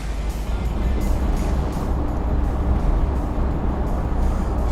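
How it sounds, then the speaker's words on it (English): A 1987 Bentley Continental Drophead engine runs smoothly at a steady, even hum with a low rumble, close and continuous for a few seconds with no talking. "This is the typical engine sound in these cars."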